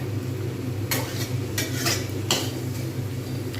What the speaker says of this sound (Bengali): আলু আর মশলা একসঙ্গে কষা হবে তাতে আলু থেকে যে কাঁচা জলটা সেটাও ছেড়ে দেবে আর আলুটা আরও সুন্দরভাবে ভাজা হবে